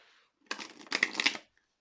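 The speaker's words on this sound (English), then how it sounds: "I would really like to draw some spirit animal cards" Spirit animal cards shuffled and drawn by hand: a brief, close flurry of papery riffling and snapping lasting about a second, then quiet.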